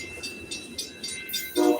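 A metro train passes in Assassin's Creed Mirage, its wheels clacking in a steady rhythm with a ringing metallic tone, ending in a brief louder horn-like toot.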